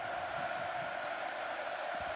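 A hockey arena crowd roars steadily and densely during a Stanley Cup Final game between the Florida Panthers and Edmonton Oilers, a constant loud wash of cheering with no breaks.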